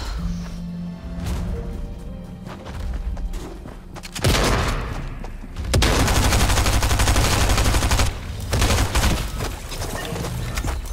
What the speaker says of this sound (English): I just got sniped at.